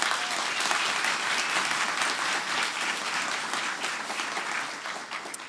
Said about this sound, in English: give our guests a round of applause